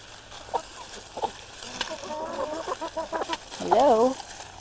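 Free-ranging backyard hens cluck and squawk at close range over damp, splashy ground, with a burst of several rapid clucks building into a louder warbling call near the end.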